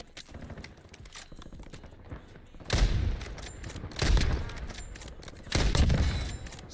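Video game gunfire in a military shooter: short bursts of automatic fire and loud reports come in three heavy clusters, with lighter shots between them.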